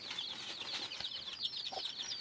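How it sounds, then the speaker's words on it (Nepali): Chickens cluck in a Nepali village yard, a hen and rooster flock foraging for insects, giving soft, scattered clucks at moderate distance against a faint outdoor background. "थुप्रै छ कुखुराहरू त परतिर चढ्दै होला"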